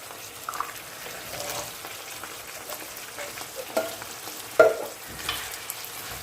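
Drained tinned chickpeas are stirred into a pork stew in a pan, with a soft continuous sizzle and scraping spoon movements and a sharper clink near the end, close up with no talking.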